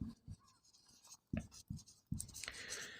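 Chalk or marker writing on a classroom board during an English grammar lesson, a series of short scratchy strokes in uneven bursts, close and moderately loud with pauses between words.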